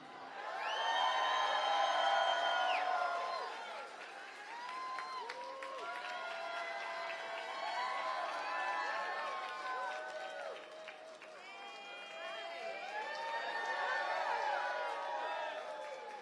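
A large Las Vegas rally crowd cheers, whoops and applauds as Padma Lakshmi takes the stage, a loud sustained roar that stays thick throughout and swells again near the end.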